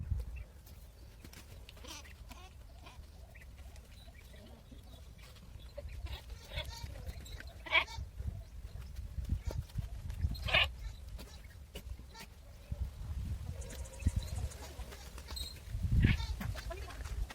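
A few young goat kids give faint, short bleats now and then, somewhat distant, over a quiet outdoor farm background with low rumbling.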